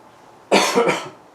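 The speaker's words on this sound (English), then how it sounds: "coughing" A man gives a single close, sharp cough in two quick bursts against a quiet indoor background.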